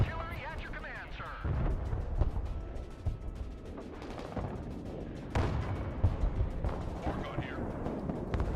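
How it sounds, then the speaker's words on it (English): Rocket artillery firing in the war game Broken Arrow, booming launches and explosions rumbling in waves with a couple of loud surges, while radio-style voices speak over the barrage. "Rocket artillery at your command, sir."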